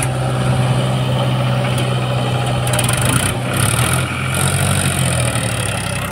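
A tractor engine runs at a steady, loud, chugging drone close by, with rattling and clanking mixed in and no talking.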